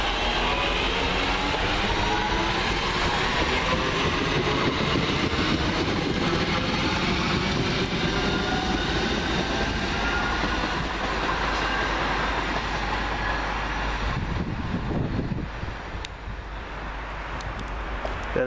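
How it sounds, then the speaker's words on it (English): London Midland Class 323 unit 323217 rolls through at Coseley on a Walsall to Wolverhampton local, a loud, steady roar of wheels and rail with clattering wagon noise that holds throughout before easing slightly near the end. "this is the 1227 London Midland local service from Walsall to Wolverhampton"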